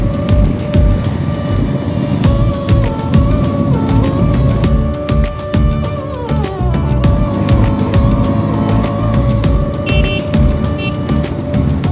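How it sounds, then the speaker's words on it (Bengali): A motorbike climbs a mountain road toward Sandakphu in Nepal with a loud, steady engine drone whose pitch shifts as it changes speed, close and continuous throughout. "চলো এবার একটু মন দিয়ে বাইক চালাই।"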